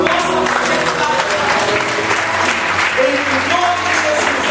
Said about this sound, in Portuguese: nós te agradecemos e te oferecemos, ó Deus, um aplauso em prova das nossas atividades